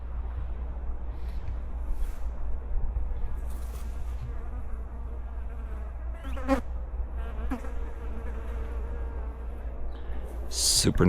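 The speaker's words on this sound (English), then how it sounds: "The bees love it." Bees hover around pollinator plants in a garden, a steady, soft buzzing drone that continues throughout, with a few brief louder passes close by.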